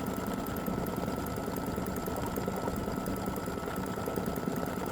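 An embroidery machine stitches the yellow underlay of a bunny design on an Easter flower quilt block, giving a steady, fast, rhythmic mechanical chatter and whir that stays close and continuous without any talking.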